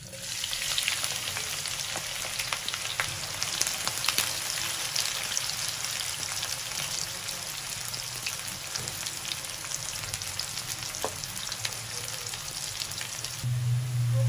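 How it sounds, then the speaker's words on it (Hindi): A quarter kilo of sliced onions fries in hot oil for a beef keema dish, producing a steady, moderately loud sizzle with scattered crackles and pops throughout, no speech. "नाज़रीन तेल हमारा गर्म हो गया है। अब हम हमारे पास ये 1 पाव प्याज है स्लाइस में कटे हुए। अब हम ये डालेंगे।"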